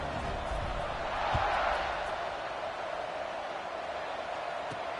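A football stadium crowd at a UCLA game roars before a kickoff late in the fourth quarter, a dense, steady wash of distant cheering that swells briefly.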